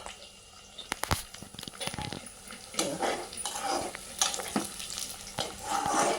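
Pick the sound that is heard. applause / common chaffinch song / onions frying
onions frying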